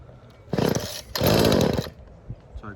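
A 2-stroke petrol RC boat engine is pull-started with a recoil starter, giving two loud, close bursts of buzzing engine noise about half a second and a second long, followed by quieter handling sounds.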